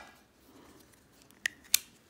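A plastic battery cover snaps onto a 2006 Audi A3 flip key, giving two or three crisp, bright clicks in quick succession close up, with nothing else heard.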